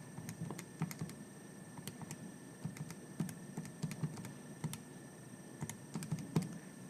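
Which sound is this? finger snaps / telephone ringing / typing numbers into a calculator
typing numbers into a calculator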